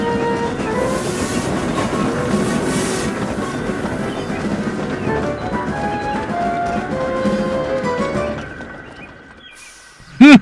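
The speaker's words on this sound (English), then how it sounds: "soon Murdoch shrieked through with a heavy goods train" A heavy goods train rumbles and clatters steadily past at close range, then a brief, shrill steam whistle shrieks out at the very end.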